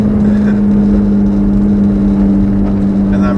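A 2015 Nissan GT-R fitted with a Meisterschaft exhaust, a tune and GFB blow-off valves drones steadily from inside the cabin while stuck in traffic, a constant low engine hum without clear revving.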